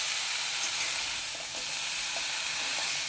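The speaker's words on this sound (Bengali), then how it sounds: "এখন একটু ভাজা ভাজা হওয়ার জন্য একটু 2 মিনিট মতন ভাজা ভাজা করে নেব।" Cauliflower florets fry in a pan with turmeric and salt, giving a steady, close, dense sizzle with no talk over it.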